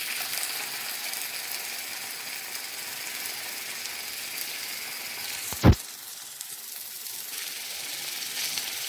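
A pot of pigeon peas and rice stew, with celery, pepper, onion and tomato paste, sizzles with a steady soft hiss, broken once by a sharp, brief scrape of the spoon.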